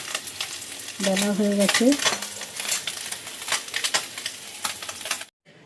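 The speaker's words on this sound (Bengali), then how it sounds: "আর এখানে হচ্ছে আমার একটা মাছ ভাজা হচ্ছে কামড়লা, এটা ভাজাই থাকবে, দুটো কড়াতে ভাজছি" Kamrola fish frying in oil in two pans, a steady close hiss and crackle of sizzling throughout, with a brief voice speaking over it before the sound cuts off.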